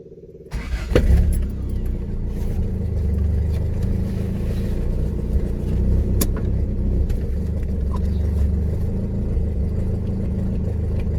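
A Toyota Corolla engine rumbles to life and keeps running steadily, a deep, close drone with a few faint clicks and knocks.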